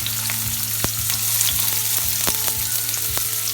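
Onions frying in hot oil for Mumbai-style pav bhaji, a constant close crackling sizzle with occasional sharp spatter pops and light stirring, no talking.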